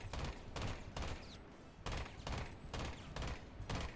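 Ela's gun in Rainbow Six Siege fires in burst mode: about eight sharp, loud bursts of rapid gunfire arrive in a steady, evenly spaced rhythm, with no talking.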